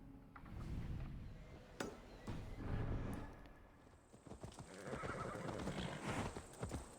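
A horse in a video game whinnies loudly while hooves clip-clop steadily along, with a second neigh later over continued hoofbeats; no talking.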